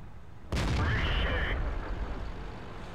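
A sudden loud artillery blast in a tank video game hits hard, then a rumbling tail fades over about two seconds.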